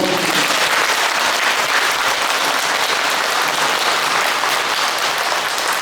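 Continuous, dense applause from a large audience at a Buddhist temple dharma talk by a visiting senior monk, loud and steady throughout with no pauses and no speech over it.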